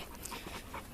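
A dog pants close by on a nature refuge trail, fast and steady breathing over about a second with no talking.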